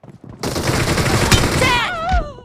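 A single sharp pistol shot in a team-based video game, loud and close, with a short ringing tail afterward.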